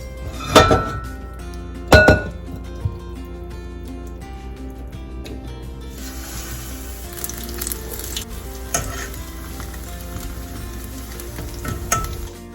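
Spoonfuls of Mysore bajji batter made with self-rising flour fry in hot oil with a constant close sizzle, broken by a few loud clinks and knocks of utensils early on.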